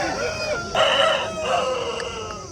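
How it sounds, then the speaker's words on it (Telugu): An Aseel breeding rooster at a Saturday poultry market crows loudly and close, one long drawn-out call with a second rise, over faint background bustle. "మంచి బ్రీడింగ్ పర్పస్ పుంజు."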